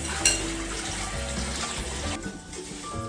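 A bowl rinsed under a running kitchen tap, a continuous close splash of flowing water with a brief clatter near the start, easing slightly before the end.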